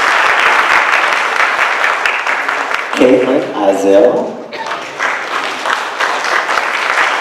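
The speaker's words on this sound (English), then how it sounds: "you may applaud, please, you may applaud for these students." Sustained applause from a crowd fills the whole stretch, with a person speaking briefly over the clapping midway.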